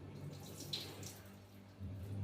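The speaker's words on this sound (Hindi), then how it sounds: "चावल को धो लेते हैं अच्छी तरह से" Rice is rinsed in a kitchen under running tap water, a soft, steady splashing trickle with a few brighter splashes, quiet and without talk.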